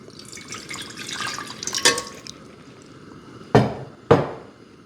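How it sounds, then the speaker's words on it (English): Water poured into a cooking pot, a splashing pour followed by two sharp metallic knocks, close and moderately loud, no talking. "I'll just use like half a cup of water first."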